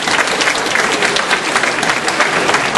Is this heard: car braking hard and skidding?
no